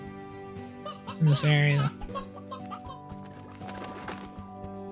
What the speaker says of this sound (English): There's a lot of chickens